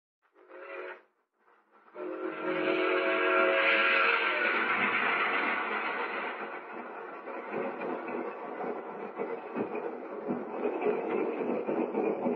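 A radio drama train effect: a short whistle blast, then a steady rumbling roll of carriages with faint clickety-clack, moderately loud and continuous with no talk.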